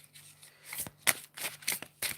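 Tarot cards being shuffled by hand, a few quick riffling bursts close by, crisp and papery, with no talking.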